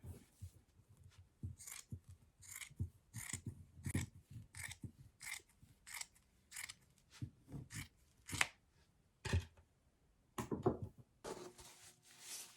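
Scissors cut fabric for a gnome cone, producing a close, quiet series of crisp snips in an even rhythm, followed by a few scattered rustling cuts and some handling noise at the end.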